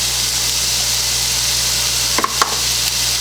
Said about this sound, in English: So the first thing I'm going to add is I'm going to put some onion into it